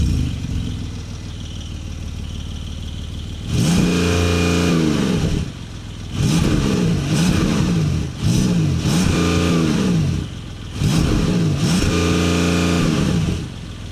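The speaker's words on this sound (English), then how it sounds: "The sport exhaust is now standard on every GTS model, and it has a really nice sound from the enlarged engine." A 2025 Porsche 911 Carrera 4 GTS T-Hybrid with enlarged engine and sport exhaust fires up after a quiet moment, then gives four sharp, loud revs that rise and fall, each capped by a soft limiter around 3,500 RPM.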